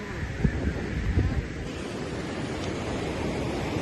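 Choppy Mediterranean sea at Cala Fornells, Mallorca, on a sunny day: a steady wash of surf with wind buffeting the microphone, a few louder rumbling gusts early on, then an even, continuous roar.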